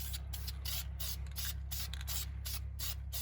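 A spray gun hisses in repeated short bursts as a final light feathering coat of paint goes onto car parts from a 1991 Formula, steady and close with a low hum beneath.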